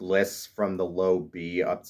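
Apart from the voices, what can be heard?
No everyday noise stands out behind the speech.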